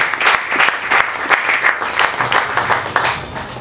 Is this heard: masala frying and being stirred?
no